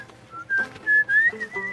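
A person whistles a short, wandering tune of several clear notes, some sliding in pitch, close and alone.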